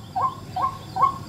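A white-breasted waterhen gives three short, evenly spaced flock calls in quick succession, clear and fairly close against a quiet background.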